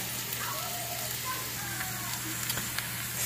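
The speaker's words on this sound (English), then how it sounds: "Just gonna give them a nice toss to make sure the olive oil is evenly spread around. And we'll just let them saute a little bit" Onions and peppers sautéing in olive oil in a pan, a steady soft sizzle with faint crackles and a low hum beneath, with a voice speaking faintly in the background.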